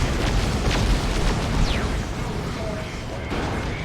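Explosions and artillery fire in a Warhammer 40k Dawn of War 2 battle as a Baneblade tank is destroyed, a dense continuous roar of booms and rumbling blasts with faint game effects layered over it.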